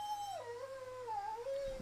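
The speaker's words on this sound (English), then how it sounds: "She's just sitting on my bed whining." A dog sitting on a bed whines in a long, wavering, high-pitched tone, close and fairly quiet, with no one talking.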